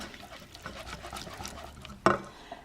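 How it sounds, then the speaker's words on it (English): A spoon stirs a cooled mixture in a bowl after an egg yolk goes in, a soft, close scraping and sloshing that ends with one sharp knock against the bowl. "So give it a good stir."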